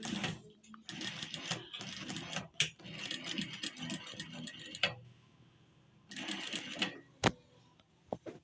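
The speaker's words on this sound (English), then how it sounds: "Now I've run through the machine." A sewing machine stitching fabric for a beret, rapid mechanical chattering in bursts separated by short pauses, close and fairly loud, with a sharp click near the end.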